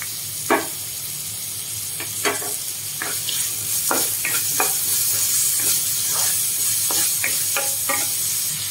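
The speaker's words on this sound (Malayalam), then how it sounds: "കറിവേപ്പില, സവാള ഇട്ട് കൊടുക്കാം. പച്ചമുളക് ഇട്ട് കൊടുക്കാം." Curry leaves, sliced onion and green chili sizzle steadily in a hot pan for a padavalanga thoran, with about a dozen sharp scraping stirs of a spoon cutting through the frying.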